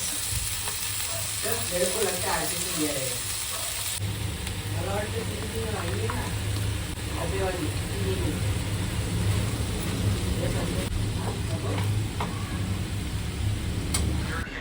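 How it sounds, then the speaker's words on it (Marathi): Steady, loud sizzling of garlic tempering in hot oil continues throughout, with a person talking over it. "छान बऱ्यापैकी ऑइल टाकलं आहे आणि मस्त लसूणची फोडणी दिली"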